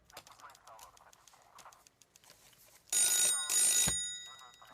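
After some faint clattering and scattered noises, a loud telephone bell rings in two long bursts, close and piercing.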